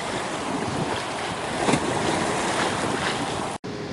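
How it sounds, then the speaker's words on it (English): Sea waves wash near the shore in Istanbul, a steady broad roar mixed with wind buffeting the microphone, with a brief dropout near the end. "We have sea here"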